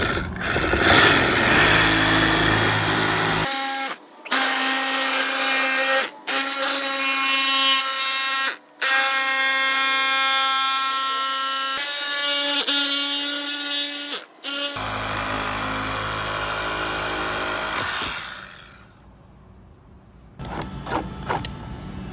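A high-pitched power tool whines loudly while cutting a plastic panel during a particle separator install on a 2022-2025 Polaris RZR Pro R 2.0L, running in several sustained bursts with brief stops, then winding down.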